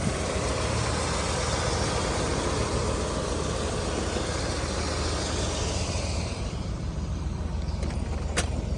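A 1976 Cadillac Eldorado engine idles steadily with a constant low rumble, close and fairly loud, with a brief faint click near the end.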